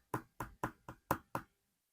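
Knuckles rapping on the hollow plastic shell of a cheap office chair, six quick evenly spaced knocks that are close and distinct with silence after.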